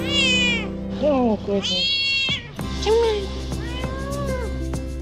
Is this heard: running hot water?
no